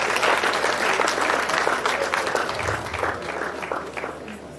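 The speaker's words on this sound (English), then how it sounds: "Can you give him another round of applause?" An audience at an engineering society induction ceremony in Nigeria breaks into hearty applause that gradually thins and fades over a few seconds.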